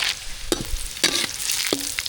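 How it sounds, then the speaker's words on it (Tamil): Mustard seeds hit hot oil while tempering sambar in a busy kitchen, giving a steady faint sizzle broken by a few sharp pops and stirring clinks. "சாம்பார் தாளிக்கிறதுக்கு என்ன சூடாச்சு கடுகு சேர்த்துக்கலாம்"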